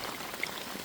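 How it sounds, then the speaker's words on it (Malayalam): Steady rain falling during a fishing outing, a soft, even hiss of drops with no voices over it. "നല്ല മഴ"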